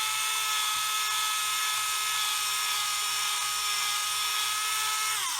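A Tamiya electric hand drill fitted with a burring tool whines at a high steady pitch while opening plastic tubing on a 1/144 Roden C-141B Starlifter model kit, close and continuous with a slight drop in pitch as it bites.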